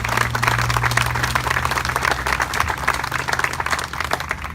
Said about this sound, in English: Can we give those people a round of applause